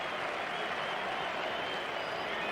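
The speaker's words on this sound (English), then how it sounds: "a pretty thrilled crowd here at the MCG" Crowd at the MCG during a 1982-83 Australia vs New Zealand cricket match cheering and applauding after a wicket, a steady, dense wash of clapping and voices heard from a distance.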